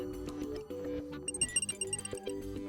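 A Mili MiTag tracker's power-on sound, a quick run of faint, high electronic beeps over a quiet background music bed.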